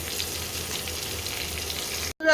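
Prawns fry in a pan of oil, a steady moderate sizzle lasting about two seconds before a sudden cut to a brief different sound at the end.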